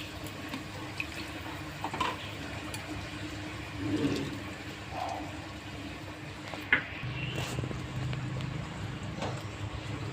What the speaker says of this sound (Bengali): মশলার ভিতরে জল দিয়ে ধুয়ে দিয়ে দেব